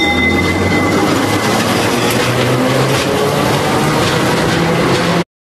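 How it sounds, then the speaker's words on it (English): A tram rolls past close by, loud rail noise with wheel rumble, some faint squeal and rhythmic clacking that keeps going steadily until an abrupt stop. "Tram."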